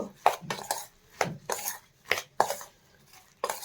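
Soya chunks being mixed with ginger garlic paste in a bowl, with a series of sharp spoon-against-vessel clinks and scrapes in irregular bursts, close and fairly quiet.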